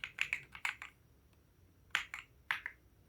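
Keystrokes on a computer keyboard as a network command is typed, a quick burst of close clicks, a pause, then two more short clusters of taps.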